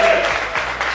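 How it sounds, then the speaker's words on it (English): Brief, dense clapping from an audience fills the short moment, steady and fairly loud. "One more round of applause for Kim as she takes her seat."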